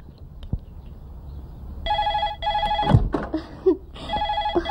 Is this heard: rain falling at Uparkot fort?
no